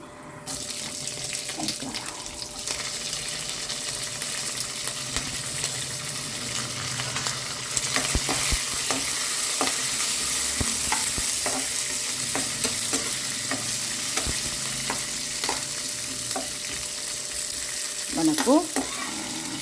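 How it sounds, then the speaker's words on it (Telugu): Onions and green chillies go into a pan where peanuts and lentils are already frying, giving a steady sizzle with scraping stir strokes and clinks, louder after the first few seconds, with no talking. "మంచిగా పప్పులు పల్లీలు చిటిచిటాన్ని ఫ్రై అయినాయి కాబట్టి ఉల్లిగడ్డ పచ్చిమిర్చి వేసుకుందాం"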